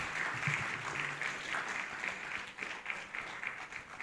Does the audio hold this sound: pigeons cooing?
no